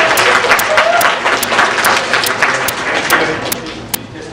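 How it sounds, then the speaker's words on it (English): An audience gives a guest speaker, Roger Bragdon, a round of applause at a workplace talk: dense, steady clapping from many hands fills the room without a break, close and loud, fading a little near the end. "Would you give him another round of applause here?"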